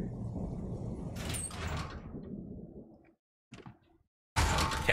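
A door in Alan Wake is kicked open, with a sliding scrape and thud after a stretch of rumbling noise, then brief silence before a loud burst of sound.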